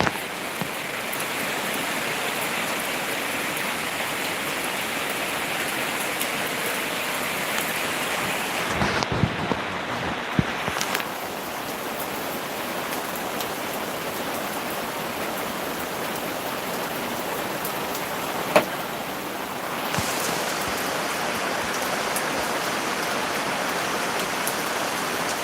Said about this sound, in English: Just out here in the rain.